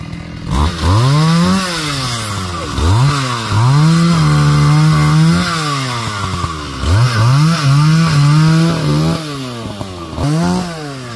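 A chainsaw cuts a large branch, dead and split, off a big Sao tree. The engine revs up and down in repeated loud bursts with short idling dips between cuts.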